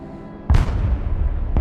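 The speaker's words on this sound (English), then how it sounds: "Rocket artillery ready, sir." Rocket artillery fires in the strategy video game Broken Arrow as a single loud, deep boom that rumbles on for about a second, ending with a faint second crack.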